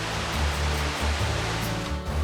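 Continuous rushing water in a valley, a broad steady wash of flowing stream sound with no voices, close and even throughout.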